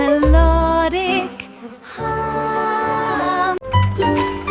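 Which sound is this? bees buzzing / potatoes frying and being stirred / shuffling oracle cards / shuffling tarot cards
bees buzzing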